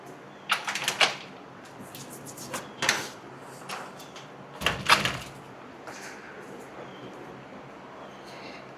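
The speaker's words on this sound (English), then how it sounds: "I'm getting puppy out the door again." A door opened and shut to let a puppy outside, heard as a few sharp knocks and clatters spread across the clip, fairly close, with quiet room noise between them.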